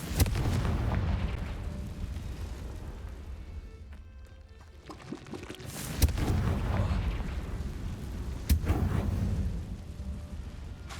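Confringo fire spells bursting in Hogwarts Legacy, game combat with rumbling low booms and two sharp explosive hits standing out over a dense, continuous battle din.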